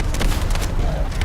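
Bomb blasts in The First Descendant video game, a dense continuous roar of booming explosions with sharp bursts layered over the rumble, loud and close.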